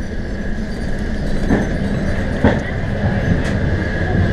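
Inside the dining car of a moving long-distance passenger train, a constant loud rumble fills the space, with a steady mid-pitched hum and a few soft, evenly spaced wheel clicks.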